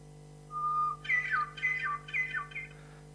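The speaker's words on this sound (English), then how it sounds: "he has the hermit thrush sound, which he must have remembered from being in Boston. If you slow it down a little bit, it becomes like this." A hermit thrush song played back slowed down: a long held whistled note, then three descending warbled phrases, clear and moderately loud over a low steady hum.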